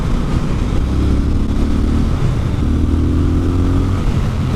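A Triumph Scrambler 1200 XC motorcycle engine held near its rev limiter, a steady loud drone with a slight rise and dip in pitch, heard alone.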